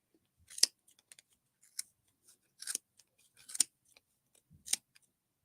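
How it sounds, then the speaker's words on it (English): Scissors snipping through material, a handful of separate crisp cuts spaced irregularly with quiet gaps, close and clear, no voices. "So I'm going to take my scissors and put it into that opening and I'm going to cut."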